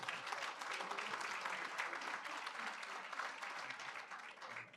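A crowd at an honorary degree dinner breaks into steady applause, a dense continuous patter of many hands held at moderate level throughout, with faint voices mixed in.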